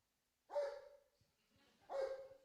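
A police dog gives two sharp, clear barks about a second and a half apart, close and alone against near silence.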